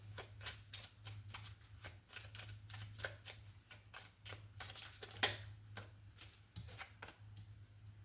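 Oracle cards riffled and shuffled in a steady run of quick papery flicks, with a low steady hum underneath and no talking.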